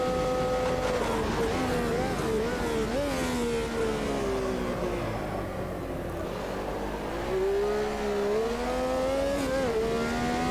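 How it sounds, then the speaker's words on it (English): Brabham BT46 race car with a V12 engine in the Automobilista 2 racing game, a steady loud engine drone rising and falling in pitch through gear changes for about ten seconds, with no talk. "The V12 sounds really, really good."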